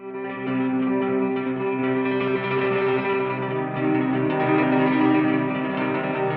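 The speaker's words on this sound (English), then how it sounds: "we have access to the trem effects down low" A sustained electric guitar chord rings out with a pulsing, wavering effect, steady and loud throughout with no talking.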